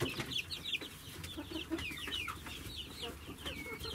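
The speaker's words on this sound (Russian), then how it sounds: "Здесь курочки молоденькие." Several young hens cluck and chirp softly in overlapping bursts, with quick rising and falling calls against a steady henhouse background.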